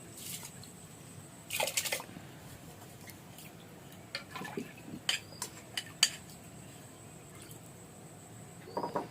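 Washed Gobindobhog rice goes into hot water in a cooking pot, heard as faint scattered clinks, light splashes and drips with quiet pauses between them.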